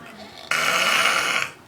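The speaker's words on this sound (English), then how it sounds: "Snoring like a motherfucker." A drunk man's loud snore: one long, harsh, rasping snort of about a second that bursts in abruptly and then cuts off, over a faint background murmur.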